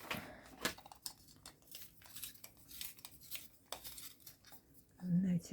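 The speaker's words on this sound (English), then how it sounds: "I'm just going to sharpen my pencil." A pencil is sharpened in a series of close, dry, rhythmic scraping strokes during a card-making craft session, with a brief murmur of voice near the end.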